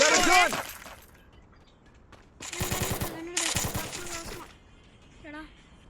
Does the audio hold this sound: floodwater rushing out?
no